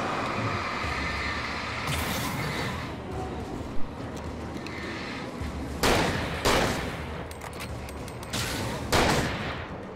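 Repeated gunshots from the Alan Wake video game, a volley around the two-second mark followed by several separate loud bursts in the later seconds, set over a steady rumbling game background.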